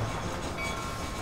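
Train riding in the Red Dead Redemption video game, a steady rumbling roll of rail cars with continuous clatter, brief and without speech.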